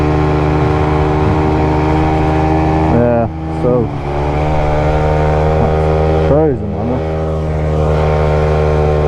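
A motorcycle engine hums steadily as it rolls with the clutch pulled in, holding a near, loud, even drone, with two brief dips and swoops in pitch partway through.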